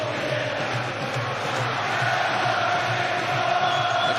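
Boxing crowd at Manchester Arena roaring for Ricky Hatton during his fight against Vyacheslav Senchenko, a dense sustained cheer filling the hall and swelling slightly toward the end.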